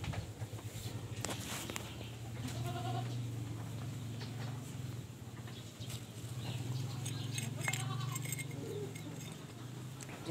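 A pregnant mother goat bleats repeatedly in a pen, her calls rising over a steady low hum, with faint shuffling footsteps and other goats nearby.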